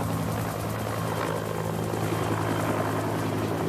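A helicopter flies over a remote airstrip during a military-style troop landing, its steady rotor chop and engine drone loud and continuous throughout, with no voices over it.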